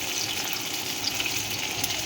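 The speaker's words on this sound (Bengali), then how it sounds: "এ পিঠটাও এরকম লাল লাল করে সুন্দর করে ভেজে নেব আমরা" Pieces of vegetarian mock fish fry in hot oil in a pan, giving a continuous, even sizzle and crackle close by with no talking.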